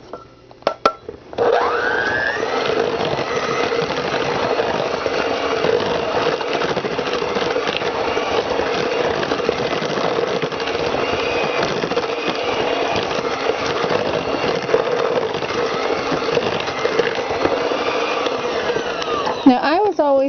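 Electric hand mixer creaming butter and sugar for a sour cream blueberry coffee cake, a steady loud motor whir starting after a short pause and running nearly unbroken to the end, with faint talk over it.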